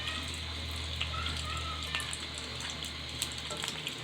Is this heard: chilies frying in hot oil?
yes